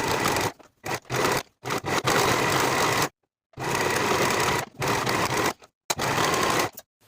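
A sewing machine finishes the side edges of skirt pocket pieces in several quick bursts of steady stitching, broken by short pauses and a longer silent gap partway through.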